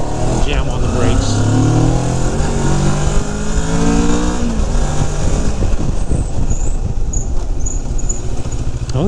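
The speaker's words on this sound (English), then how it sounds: "I'm going to bring it up to about 50 and jam on the brakes." A Moto Morini X-Cape adventure motorcycle engine runs loud and close as the rider speeds up to about 50 and brakes hard in an ABS test, its pitch falling as the bike slows, all under steady wind roar.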